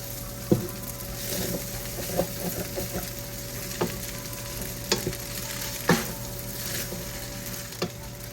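Fried rice with bacon and broccoli stir-fried in a pan, with a continuous sizzle broken by repeated scraping and clanking strikes of a utensil against the pan at an irregular pace, close and clear with no talk.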